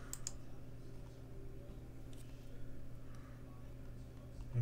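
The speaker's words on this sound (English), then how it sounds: "I should be able to just rename it by right clicking." A computer mouse is right-clicked, giving a few soft, brief clicks over a constant low hum from the machine.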